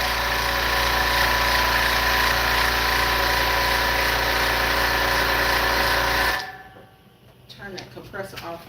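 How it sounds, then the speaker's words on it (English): An air compressor runs at a loud, steady drone with a constant hum, then cuts off abruptly, leaving quieter room sounds and light clatter in a DTF transfer pressing workspace. "Turn that compressor off."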